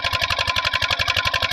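An engine runs steadily for irrigating a wheat field, a loud, close, rhythmic chugging with a fast regular pulse and no talking.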